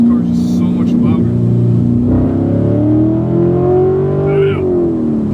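Loud Corvette C7 Grand Sport V8 revving up from inside the car, its deep roar climbing steadily in pitch as it accelerates, with a brief voice heard early on.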